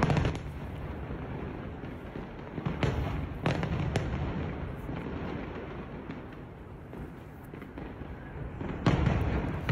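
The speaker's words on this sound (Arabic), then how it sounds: "الحفلات الصاخبه الصارخه والالعاب الناريه المزعجه للناس" Fireworks crack and boom in irregular bursts, sharp pops over a continuous rumbling crackle, fairly loud and distant-to-mid range, with no voices.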